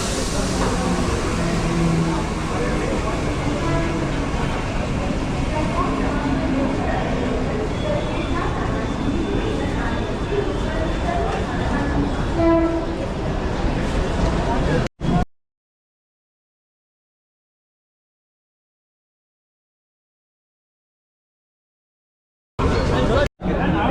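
Busy railway platform ambience at Borivali station, with a rumbling train and a crowd chattering all around, loud and continuous, then a sudden cut to silence.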